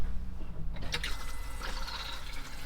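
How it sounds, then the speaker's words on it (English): A motorhome toilet flushing, a close, gurgling rush of water filling and draining the bowl with drips, steady and moderately quiet for a few seconds. "yeah, we have a flushing toilet"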